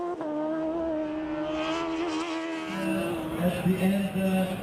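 Sidecar racing outfits scream through a twisty chicane at the FIM Sidecar World Championship in Rijeka, engines revving high and shifting pitch as they brake and accelerate, with a commentator talking over the racket.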